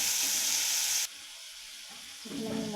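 Tomatoes with salt simmering in a pan, a loud steady sizzle for about a second that suddenly drops to a faint low bubbling, then swells again near the end.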